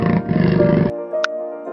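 A jaguar lets out one loud, rough roar lasting under a second, up close, before a soft electronic game jingle takes over in a children's alphabet animal game.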